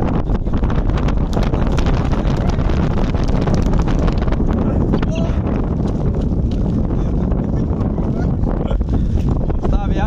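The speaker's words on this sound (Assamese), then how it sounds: "বতাহ আহি আছে ইমান পৰা" Strong wind buffets the microphone in a loud, constant roar for the whole stretch during village flooding, with a voice faintly audible underneath.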